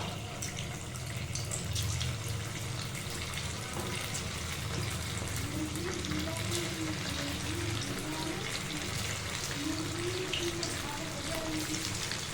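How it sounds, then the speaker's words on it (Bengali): Potato fritters frying in hot oil give off a steady, moderately quiet sizzle and crackle that continues without a break. "তো আবারও তেলের মধ্যে দিয়ে দেবো।"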